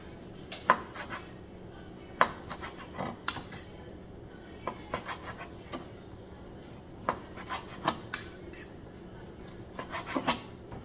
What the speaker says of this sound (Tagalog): hiwain ko siya ng paislanting